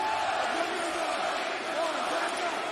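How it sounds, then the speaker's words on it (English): A wrestling arena crowd roars and cheers in a continuous loud wash of voices, with no single speaker standing out. "This crowd is loving it."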